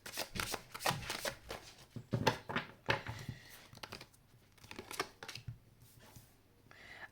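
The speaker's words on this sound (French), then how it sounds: "on va prendre une carte du voyageur sacré." Sacred Traveler oracle cards being shuffled by hand, close and soft: quick riffling bursts and papery slaps in an irregular rhythm, fading to quieter handling toward the end.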